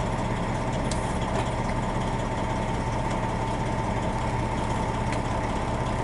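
A slab-hauling truck idles with a dense, constant low rumble and broadband hum, unchanging and close, with no voices.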